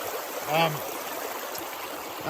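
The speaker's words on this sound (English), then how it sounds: "I've got a tremendous amount of water going into that thing." Heavy water flow rushing over a gold prospecting sluice mat in Wisconsin, a steady broad wash close by, briefly overlaid by a short tonal sound early on.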